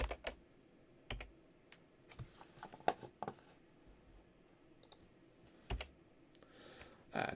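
Numbers are keyed into a calculator as a few scattered, faint clicks and taps, spaced irregularly over quiet room noise.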